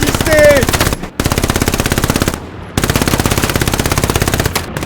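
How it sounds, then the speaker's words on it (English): Machine gun fire in the World War II shooter Hell Let Loose: long, rapid, loud bursts of automatic gunfire, close by, broken by two short pauses. "They got an MG on us, be careful."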